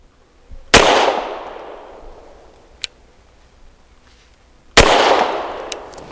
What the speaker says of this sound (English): Definitely subsonic.